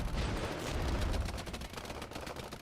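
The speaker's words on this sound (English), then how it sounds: "What are they shooting at?" Gunfire in the Regiments war strategy game: dense, continuous crackle of shots and bursts blending into a steady background din, moderately quiet, with no voices.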